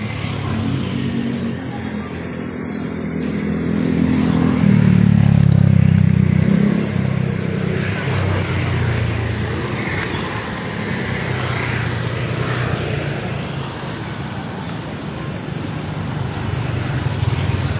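Road traffic passing near the Pandacan pumping station flood-control works in Manila, a steady wash of car and motorcycle engines with a swelling pass around the middle and continuous roadway rumble throughout.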